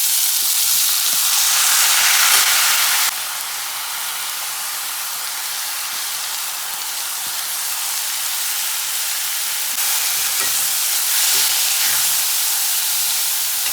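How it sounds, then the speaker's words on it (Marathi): Grated coconut and cashews sauté in a pan with a steady, bright sizzle and hiss, slightly louder at the start and again near the end, with occasional faint stirring scrapes and no talking. "आता आपल्याला चांगला परतून घ्यायचा आहे, साधारण 4 ते 5 मिनिटं."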